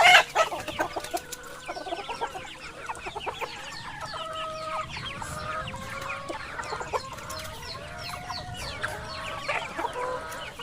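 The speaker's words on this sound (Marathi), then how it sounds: "बाकी कोंबड्यांची क्वालिटी बघा आता ही व्हिडिओमध्ये दिसतात" A flock of free-range traditional village chickens, seven or eight months old, fills the yard with constant overlapping clucks and calls, one rooster crowing among them, close and busy throughout.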